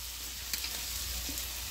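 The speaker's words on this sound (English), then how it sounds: "All right, we're sizzling." Leftover Chinese food sizzles steadily in a 10.5-inch Ninja non-stick fry pan, a constant close hiss and crackle that holds throughout with a few small pops.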